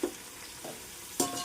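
Onions frying in oil in a pan for chicken dum biryani, with a soft steady sizzle and a few stirring scrapes, close and fairly quiet, no talking.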